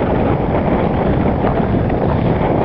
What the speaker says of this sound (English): As you can probably tell, it's pretty windy up here right now.